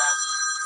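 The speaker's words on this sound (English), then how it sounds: "I apologize for the phone." A telephone rings with a bright electronic tone, steady and fairly close for a brief moment.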